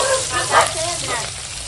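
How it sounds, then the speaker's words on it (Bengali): Fish hisses and crackles as it fries in hot oil, a loud, close, steady sizzle with a brief surge partway through, no talk over it. "এখন মাছ ভেজে দেবো"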